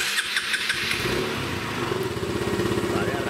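A Honda PS or SH scooter engine starts up and settles into a steady, close idle with a rapid low rhythmic pulse, after a brief burst of starter clatter at the beginning.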